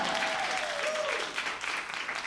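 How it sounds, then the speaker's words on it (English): A studio audience at a radio station sound-stage Q&A with a pop singer gives a round of applause, dense clapping filling the room, with a few cheers and voices mixed in. "Guys, another round of applause"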